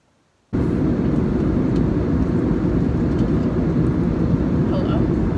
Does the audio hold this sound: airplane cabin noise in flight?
yes